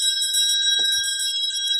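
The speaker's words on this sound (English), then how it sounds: "So that's the landlord's bell for 18:05, 6:05." A pub landlord's bell gives a single bright ring with a sustained shimmering tone, loud and close, lingering over the whole moment with a faint knock beneath.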